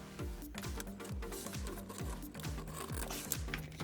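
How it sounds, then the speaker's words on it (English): Fasteners on a Ryobi router base plate are tightened, giving a quick rhythmic series of ratcheting clicks with repeated short sweeping tones, close and fairly quiet, with no talking. "So we're going to press down on this and tighten these fasteners up."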